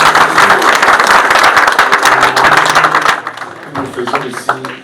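Applause breaks out at a couple's church gathering, dense clapping and hand taps from a congregation ringing out loudly for about three seconds, then thinning out as a voice speaks over the fading claps.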